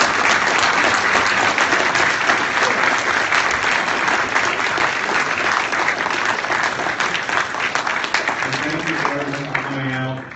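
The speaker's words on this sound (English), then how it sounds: "everyone get a round of applause for Ben Shapiro" A large audience breaks into loud, sustained applause for Ben Shapiro at a campus event, dense clapping that fills the whole stretch and tapers slightly near the end, with a voice emerging faintly underneath.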